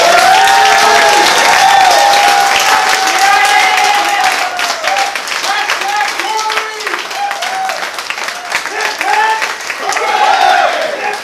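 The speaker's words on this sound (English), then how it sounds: "let's give a very special applause to our fearless leader here, Ms." At an awards thank-you event in Hawaii, a crowd applauds and cheers loudly, sustained clapping mixed with whoops and voices calling out, people talking and shouting over it throughout.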